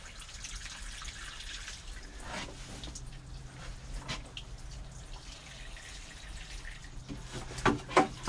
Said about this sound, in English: water the Christmas potatoes